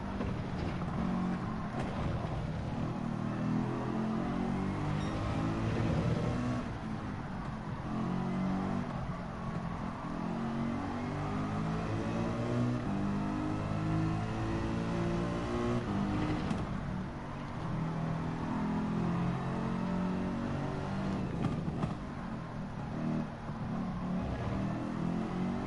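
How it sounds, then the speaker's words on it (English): Nissan GT-R engine in Gran Turismo 7 during an online manufacturers cup race, revving and shifting with rising and falling tones, loud and steady throughout with no talking. "listen to the downshifts of that GTR"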